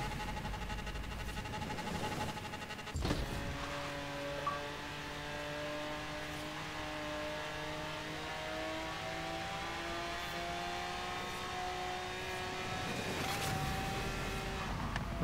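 Game car engine revving in Forza Horizon 3 with the Hot Wheels add-on, a car with very poor handling; a loud, steady mid-pitched engine drone rises and shifts through gears, with brief bumps and no talk.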